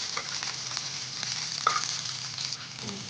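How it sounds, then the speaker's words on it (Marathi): Green chillies fry in hot oil over a wood-fired stove, a soft, steady sizzle with faint crackles and one brief sharp pop partway through, no talking. "तेल आता चांगले तापलेले आहे, त्यावर आपण या हिरव्या मिरच्या टाकूया आणि चांगले भाजून घेऊया."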